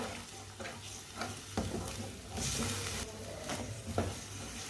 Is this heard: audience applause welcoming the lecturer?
no